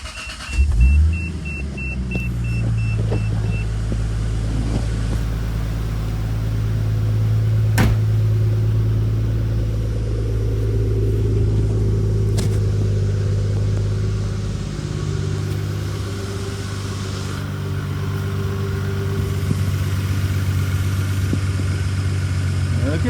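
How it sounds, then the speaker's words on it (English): A Toyota Supra MA61 with a 7M-GTE engine cranks and fires up after a new oil line is fitted, then settles into a steady, loud, close idle that runs for about twenty seconds. "here's the first startup after the new oil line got put in"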